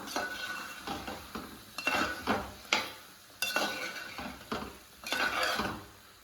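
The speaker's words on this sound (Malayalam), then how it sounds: "നന്നായിട്ട് ഒന്നുകൂടി ഇളക്കി യോജിപ്പിച്ച് കൊടുക്കാം" Chicken varattiyathu being stirred in a pan: repeated scraping strokes of a spoon against the pan, roughly a dozen irregular scrapes over a soft background sizzle, close and fairly loud, no talking.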